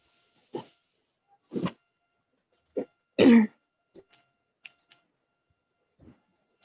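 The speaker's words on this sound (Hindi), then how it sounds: "किसने गला साफ किया बताने के लिए?" Someone clears their throat and coughs a few times during an online class, short scattered bursts that are fairly close and loud against near silence, with faint clicks in between.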